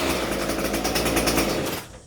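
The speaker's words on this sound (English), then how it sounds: "look how easy it turns on" ECHO SRM-230 string trimmer with a small two-stroke engine runs at a loud, steady high-pitched buzz close by, cutting out abruptly near the end.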